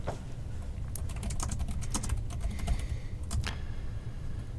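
Rapid clicking keystrokes patter on a computer keyboard in irregular bursts over a low background hum.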